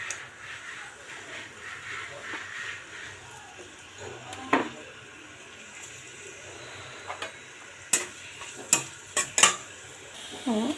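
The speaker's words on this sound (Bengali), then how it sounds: "ডালটা বাগার দেওয়ার জন্য দিয়ে দিলাম একটু তেল, আর দিয়ে দেবো পেঁয়াজ কুচি আর রসুন কুচি।" Chopped onion and garlic frying in oil for a dal tempering, a soft continuous sizzle broken by scraping stirs and sharp clinks of a utensil against the pan.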